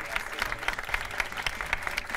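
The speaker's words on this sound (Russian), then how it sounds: "Эти аплодисменты зала искренне вам." A TV studio audience at a Belarusian quiz show applauds, a lively dense patter of many hands with sharp individual claps standing out, steady throughout the short stretch.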